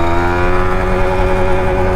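A Yamaha MT 15 motorcycle accelerating hard in a top-speed run, its engine a loud, steady, buzzing drone with strong harmonic whine held close throughout, no voices.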